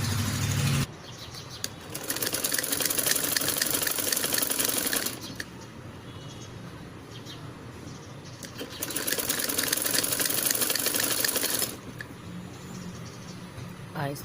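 A sewing machine stitching piping onto the sleeve of a baby umbrella frock: two long bursts of fast rattling stitching, close and loud, separated by quieter pauses with handling.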